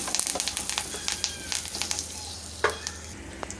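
Dried red chili, asafoetida and curry leaves crackle and sizzle in hot oil as they are stirred, with a steady close fry and scattered sharp pops, brief scraping strokes of a spoon, no voices.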